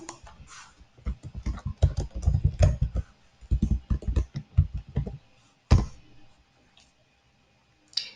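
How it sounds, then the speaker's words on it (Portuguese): Close, crisp keystrokes on a computer keyboard as a message is typed, coming in irregular bursts of rapid clicks separated by short pauses, then trailing off into quiet. "Vou digitar uma mensagem aqui."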